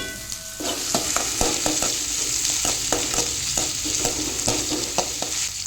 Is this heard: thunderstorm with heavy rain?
no